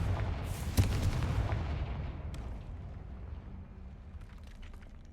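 A Confringo fire spell blasts in the Hogwarts Legacy video game, one heavy boom up front that rolls into a long, fading rumble with scattered crackles afterward.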